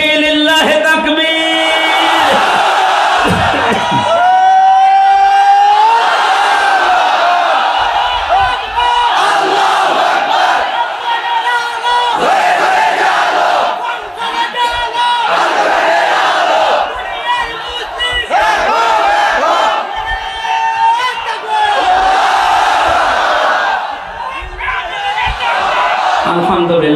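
A huge crowd at an open-air Islamic religious gathering in Chapainawabganj chants Allahu Akbar in loud, rhythmic waves of massed voices, rising and falling repeatedly for nearly half a minute, with a lead voice calling over them.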